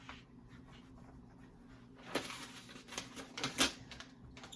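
Writing on a classroom board is wiped away with a few quick, faint rubbing strokes following a short quiet stretch.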